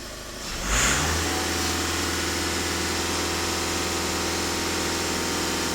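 A 1.6 TDI diesel engine in a VW Caddy catches and revs up to about 2,500 rpm, then holds a steady, loud drone with a low rumbling vibration throughout.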